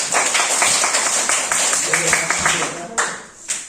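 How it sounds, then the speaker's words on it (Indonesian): Classroom audience of student teachers applauding after a group presentation, a dense steady patter of many hands clapping that thins out toward the end, with voices mixed underneath. "Silakan tepuk tangan dulu untuk."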